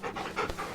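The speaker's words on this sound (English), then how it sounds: "Pet the dog." A dog in the Final Fantasy XVI video game pants in a quick, breathy run of short huffs, close and fairly loud, with no talk over it.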